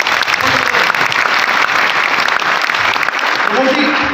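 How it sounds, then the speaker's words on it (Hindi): An audience at a business seminar claps loudly for Pramod. The applause is close and continuous, and voices speak over it near the end. "जब भी प्रमोद जी आए तो प्रमोद जी के लिए ताली चाहिए"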